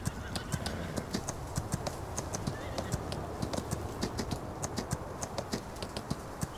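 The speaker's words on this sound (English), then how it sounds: "See where this horse goes." Horse hooves clip-clopping steadily in Farming Simulator at a ranch, a fast, regular run of sharp hoof clicks over constant ambient background noise, no talking.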